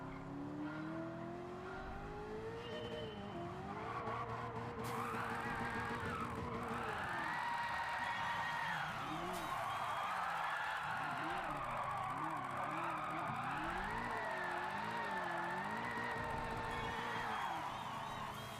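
A turbocharged race car in Gran Turismo 7 revs and shifts, its engine tone rising and falling steadily throughout while tires squeal and skid, loud and close, with no talking.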